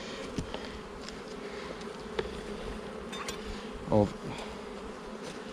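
Honey bees buzzing around an open beehive during a 2021 inspection, a continuous close drone with a few louder passes, and a single spoken word near the end.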